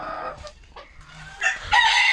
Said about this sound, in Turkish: damızlık vasıflı bir horoz. Tabi daha yeni ötüyor.